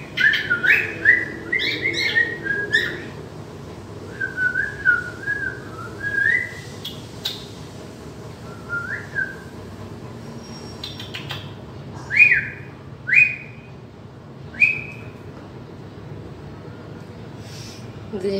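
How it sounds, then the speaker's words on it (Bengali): A pet cockatiel sings and whistles inside a mosquito net, with repeated bright rising whistled phrases and chirps, close and fairly clear against a quiet room, with faint background noise. "সেখানে উড়ে গান শোনাচ্ছি আপনাদেরকে"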